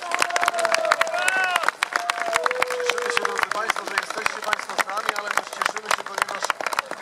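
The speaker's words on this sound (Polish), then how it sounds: "znieść gorące wiwat dla zwycięzców," Outdoor crowd cheering for the victors at a Swedish-era battle reenactment near Bydgoszcz, a broad steady roar threaded with sharp cracks and whistle-like tones, a voice calling out over it throughout.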